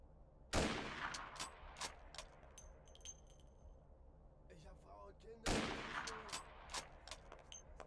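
Two sharp, loud gunshots in the Mafia video game, spaced a few seconds apart, each with a reverberating tail and faint metallic clinks between them.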